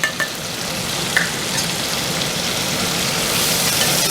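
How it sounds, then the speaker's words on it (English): Sliced celery and onion frying in bacon fat in a pan, a dense, even close-up sizzle with a couple of brief stirring clinks and no speech. "stir and cook these until they're tender, the vegetables are tender."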